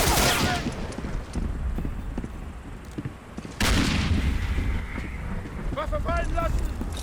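Video game gunfire from Medal of Honor Warchest: loud bursts of shots open the clip and return midway, over a dense battle din, with a voice calling out near the end.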